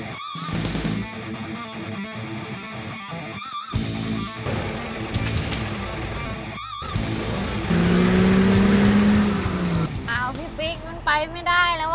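A Mitsubishi Pajero Sport engine works and revs as the SUV crawls over an off-road course of alternating holes, the motor rising and straining mid-clip, while people talk over it nearby.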